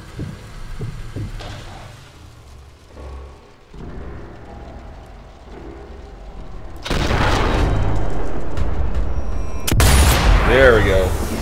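Semi-automatic sniper rifle fire in Sniper Elite 4, heard as loud booming shots in quick succession, a first shot followed by a follow-up, amid game noise with someone talking.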